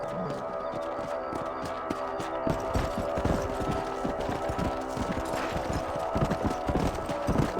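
Horse hooves clip-clop steadily while riding in the video game Red Dead Redemption, a close, continuous rhythmic trotting over a low ambient bed with no talking.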